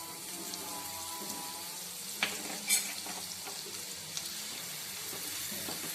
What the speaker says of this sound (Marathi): त्यामध्ये आपण टाकूया अद्रक, लसूण, कोथिंबीर याची पेस्ट आहे.